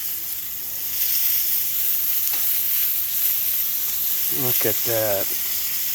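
Chorizo brats sizzle with a constant loud crackling hiss on a grill, close and steady, while someone speaks briefly near the end.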